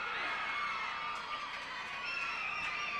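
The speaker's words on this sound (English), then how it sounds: "One side will yell loud, and the other side will yell louder." A 1988 high school basketball crowd in a gym, Montague against Whitehall, cheering and yelling loudly in a continuous roar with shrill shouts, heard from within the stands.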